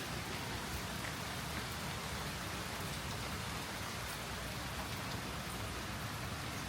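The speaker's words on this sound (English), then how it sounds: "We just had a hailstorm. I can't go out there because it's raining real bad" Heavy rain pours steadily just after a hailstorm, a dense, continuous hiss of drops hitting surfaces close by, loud and unbroken throughout with no voices.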